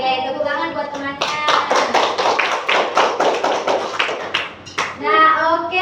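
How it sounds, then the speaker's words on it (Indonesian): Classroom applause breaks out for a student: a burst of children clapping in quick, dense bursts for several seconds, with a teacher's and children's voices speaking just before and after. "tepuk tangan buat temannya"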